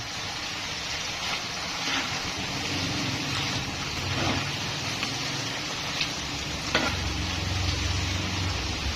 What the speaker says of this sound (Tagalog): Tapos syempre haluin natin ng haluin.